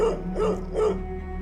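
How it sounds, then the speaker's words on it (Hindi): A pet dog barks indoors in a drawing room in a horror audio drama, giving a few short, muffled barks in quick succession over a steady low hum, with no one speaking. "ड्राइंग रूम में बैठा टीमी अभी भी भौंके जा रहा था।"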